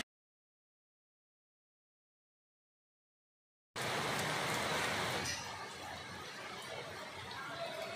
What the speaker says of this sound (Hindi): दो दिन से हो रही रुक रुक कर बारिश से लोगों ने गर्मी से राहत की सांस ली है